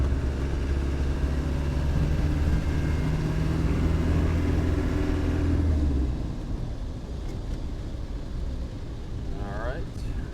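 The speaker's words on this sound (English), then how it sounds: "So going uphill here, we'll downshift into third gear." A 1991 Land Rover Defender 90 with a 200Tdi diesel engine climbs uphill in third gear, its engine a steady loud rumble that drops off partway as the truck shifts and settles.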